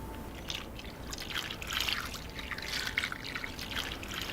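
White wine pours into a roasting pan holding lamb, garlic and rosemary, a close, continuous trickling splash that builds and fluctuates for several seconds without any talk.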